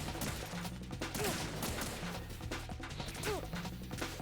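Shotgun fire from enemy guards in Metal Gear Solid 2 sounds as repeated heavy blasts over busy game noise, fairly faint overall and steady across the moment.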